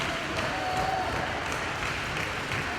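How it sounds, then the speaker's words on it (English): A wrestling crowd at a NAWA Championship Wrestling event cheers and claps steadily in the arena, a continuous distant roar with no clear breaks and no commentary over it. "Imploring the fans to cheer him on here"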